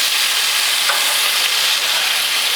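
Beer brats sizzling on a grill, a steady, close, bright frying hiss with faint crackles, unbroken and without voices.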